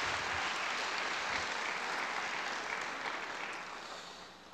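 Audience at an MLK Erev Shabbat service giving a round of applause for those involved in the Black-Jewish dialogue; dense, steady clapping fills the hall, then tapers slightly toward the end.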